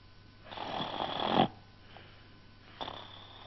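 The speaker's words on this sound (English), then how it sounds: "Listen to him snore" Snoring rises and falls in slow breaths, one long rasping snore followed by softer ones, close by with no talking.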